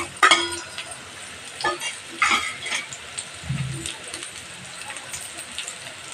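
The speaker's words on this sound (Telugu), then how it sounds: "ఇప్పుడు ఇట్లా ఫ్రై అయినాక ఆనియన్స్ వేసుకుందాం మనం." Bitter gourd and onions frying in a pan, with faint sizzling, a few spatula scrapes, and a voice speaking briefly near the middle.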